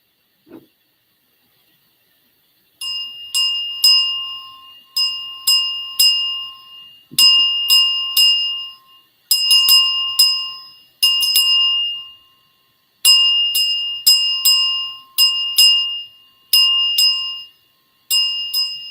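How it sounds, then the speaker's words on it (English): Hand bells rung during a quiet moment of remembrance for children: bright, resonant strikes start after a brief silence, then repeat in clustered rhythmic groups, loud and close, each ring decaying before the next. "if you have a bell, ring it."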